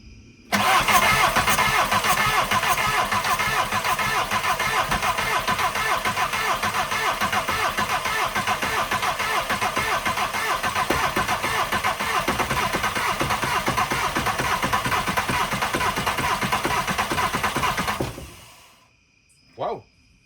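A diesel 1.6 Rabbit truck engine cranks continuously for about seventeen seconds with a loud, steady mechanical churn after waiting for the glow plugs, then cuts out abruptly, followed by a short quiet thump.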